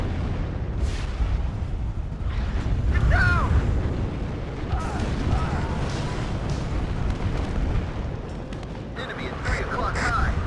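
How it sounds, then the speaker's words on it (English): Artillery strikes and explosions rumble through a WARNO battle, a dense, continuous low roar of booms and blasts with scattered sharper cracks, under a voice talking. "we are seeing artillery strikes again from the enemy"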